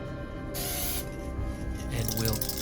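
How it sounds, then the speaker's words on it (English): A spray bottle of water squirts between thin paint layers on a mirror, giving two brief close hissing bursts with a low background rumble in between. "maybe squirt a little bit of water every once in a while between layers"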